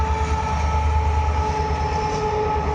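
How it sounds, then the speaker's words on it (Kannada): A train rolls past at a steady pace, a continuous low rumble with a faint tonal hum over it, alone without voices. "ಅದೇ ಟೈಮಿಗೆ ಯಾವುದೋ ಟ್ರೈನ್ ಬಂತು"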